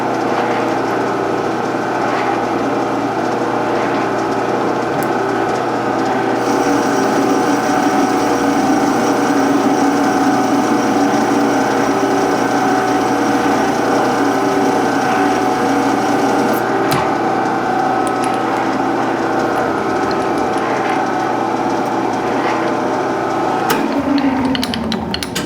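A metal lathe takes a threading pass on a bearing cap for a toolpost grinder, giving a loud, steady mechanical whir with gear whine and a constant hum, then a shift in tone near the end as it winds down.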